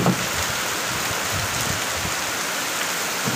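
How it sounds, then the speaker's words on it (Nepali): Heavy rain pours down steadily on a Dashain festival day outing, a dense, even wash of hiss and patter close by with no voices over it. "यति ठुलो पानी परेको"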